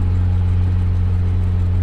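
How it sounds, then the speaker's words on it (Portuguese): A Mercedes-Benz 1513 truck drives along rural back roads, heard as a loud, steady, low engine drone with a constant hum and no voices. "enquanto nós vamos trafegando aqui por essas estradas vicinais aqui de Vinolândia, Campestrinho."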